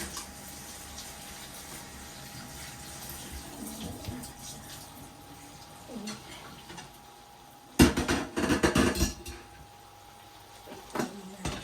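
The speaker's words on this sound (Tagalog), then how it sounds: "Lagyan natin ang tubig." Water is poured into a pasta mixture for a Spanish sardine pasta, with splashing and clattering bursts in the middle and end over faint kitchen noise and a steady hum.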